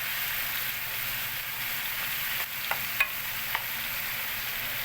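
Half a kilo of minced meat frying in rendered fat, with a steady broadband sizzle throughout and a few soft scraping stirs of a spoon near the end, close and even, no talking.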